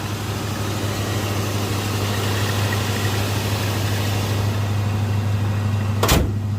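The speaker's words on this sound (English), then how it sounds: "That's how real American iron sounds when you shut the hood." A 1966 American car's hood slams shut with a single sharp metallic clack near the end, following a steady engine-like hum, and no one speaks.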